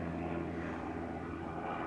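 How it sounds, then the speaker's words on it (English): A propeller plane used for skydiving flights from a nearby airfield drones overhead, a steady, fairly distant engine hum with no talking over it. "Oh, there goes a skydiver plane."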